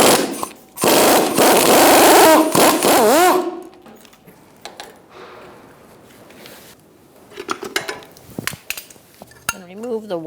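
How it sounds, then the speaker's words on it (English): A 21mm socket works the top nut off a rear strut assembly on a 2000-2007 Ford Taurus 3.0L V6, with loud metallic rattling and clanking at first, then quieter scattered clicks and taps of tools and parts. "Take the nut off."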